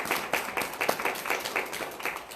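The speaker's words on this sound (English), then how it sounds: "Can we give everybody a round of applause for that?" An audience claps together in a steady burst of applause, dense, rhythmic and fairly close, lasting a couple of seconds with no voices over it.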